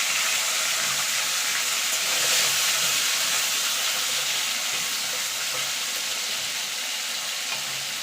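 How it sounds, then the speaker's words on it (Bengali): Potatoes and cauliflower fry in hot oil, a steady loud sizzle and crackle with faint stirring scrapes, continuing evenly without any voices. "আলু ফুলকপিটা ভেজে তুলে নেব।"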